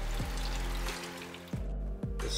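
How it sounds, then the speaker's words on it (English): Running water flows steadily inside a lush geodesic dome greenhouse in the desert, a continuous loud splashing wash with a few low thumps. "I was greeted with the sound of running water"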